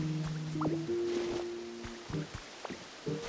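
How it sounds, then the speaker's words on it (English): Water dripping in the video game Pokemon Pokopia, scattered single drips and plinks with a few tonal squishy notes, fairly quiet against a soft background hiss. "So the water's coming from up here."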